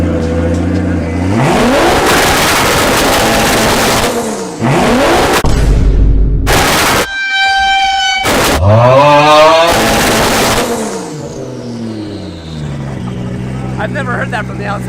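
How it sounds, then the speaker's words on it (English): A Toyota Supra MKIV with a built turbo engine roars loudly right beside the listener outdoors, revving hard in repeated rising and falling sweeps with sharp pops in between. Voices talk over parts of it. "I've never heard that from the outside. Right next to the car, what is that? That is epic. That is loud."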